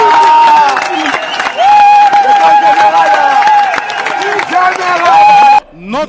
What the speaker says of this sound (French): je vous invite vraiment à vous lever et à l'applaudir